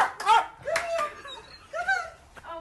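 A small dog yaps and whines in several sharp, high-pitched barks, close by, with short gaps between them.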